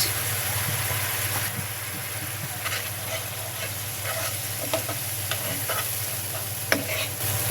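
Turmeric and chili powder being stirred in a frying pan of hot oil while cooking boal fish: a steady sizzle runs throughout, with scattered spoon scrapes and clicks against the pan.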